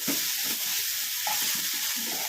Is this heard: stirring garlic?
yes